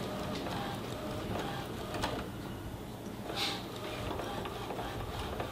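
An Epson inkjet printer prints a page with steady mechanical whirring and small ratcheting clicks from its feed gears, continuous and fairly quiet at close range.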